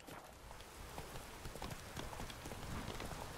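Hooves of Roach, a horse in The Witcher 3, clip-clopping steadily at a brisk walk, faint and continuous with a soft ambient wash beneath.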